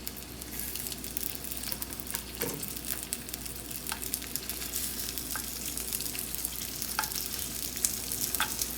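Chicken wing gyoza frying in a pan, first side down, giving a steady close sizzle with faint scattered crackles and pops throughout, no voices.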